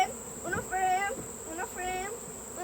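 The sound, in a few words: bees buzzing around a hive frame during honey harvest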